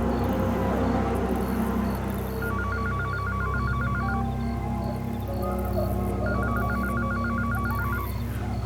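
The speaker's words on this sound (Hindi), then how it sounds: "तुम्हारा फोन बज रहा है।" A telephone rings in a horror TV show scene with bursts of rapid electronic trilling, repeated twice, over a continuous low hum in an otherwise quiet room.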